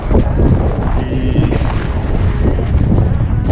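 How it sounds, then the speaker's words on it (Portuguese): Strong wind buffeting an outdoor microphone on a cold day during a three-stage ultramarathon in Rio Grande do Sul, a loud, continuous low roar with gusty rumbling throughout. "olha o vento que tá"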